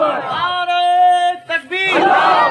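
At a religious conference, a crowd roars takbir responses, a loud sustained collective shout lasting over a second, briefly dropping away before a second surge of massed voices rises.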